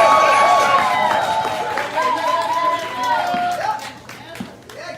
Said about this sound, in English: Clap for her. Bring the noise.